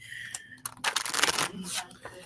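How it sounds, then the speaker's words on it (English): Tarot cards riffle and slap in bursts during a live reading at a holistic health and wellness event, crisp and close, with voices murmuring in the background. "Let me give it a good shuffle here."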